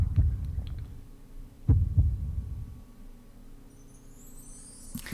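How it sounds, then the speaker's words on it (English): Deep heartbeat thumps open a song, two or three loud, low, throbbing pulses in slow rhythm, fading into a quiet hum with a faint high shimmer at the end. "So it starts with the heart beating."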